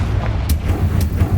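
Hogwarts Legacy's Confringo blasting spell fires off in quick, punchy bursts, two or three sharp cracks within a second over a dense, rumbling battle backdrop.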